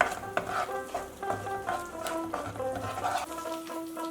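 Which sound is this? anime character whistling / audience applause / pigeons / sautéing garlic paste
sautéing garlic paste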